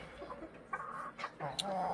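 Chickens inside a poultry shed on a hot day: scattered soft clucks and short calls from several birds, some closer than others, with a voice talking over them.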